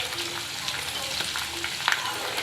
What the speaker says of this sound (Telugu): పోపు కూడా వేపుకొని ఫ్రై చేసుకొని తీసుకుందాం ఫ్రెండ్స్